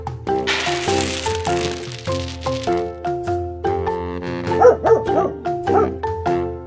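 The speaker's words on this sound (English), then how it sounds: "Dog." A dog barks and yips several times over cheerful background music, the barks loud and close in the latter half.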